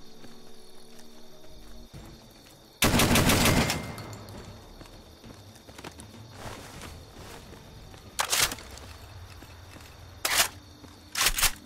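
A big scorpion gun in Fallout fires in short loud rattling bursts, one long volley followed by a few briefer ones, against a quiet wasteland background.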